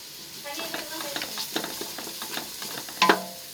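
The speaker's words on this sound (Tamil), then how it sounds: "இஞ்சி போட்டு வதக்கிட்டு நெக்ஸ்ட் பூண்டு போட்டு வதக்கலாம்." Ginger and garlic sizzle and fry steadily in a pan for tomato biryani, a close, continuous crackle with faint stirring scrapes and a brief louder clatter near the end.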